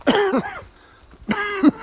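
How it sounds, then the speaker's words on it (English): Two harsh, hacking coughs, each a quick double burst, close and loud with a short pause between them. "We're into the coughing, hacking stage"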